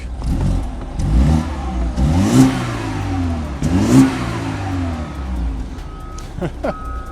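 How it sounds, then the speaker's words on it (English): A car engine revs up twice in strong surges, each climbing and falling back to idle, with a steady rumble between bursts. "we'll do our little rev check"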